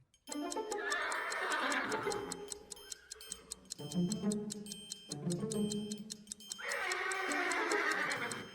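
Horses whinny loudly over a steady, rapid ticking rhythm, like a clock or hoofbeats, with layered neighs rising and falling throughout.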